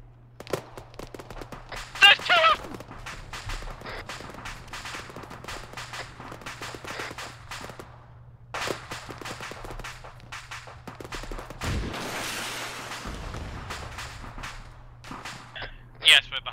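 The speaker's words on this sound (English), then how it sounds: "So the lost squad is currently in a gunfight." Gunfire crackles in scattered bursts through a gunfight in the military video game Arma, with sharp shots spread across the scene among quieter stretches, while people talk over it on voice chat.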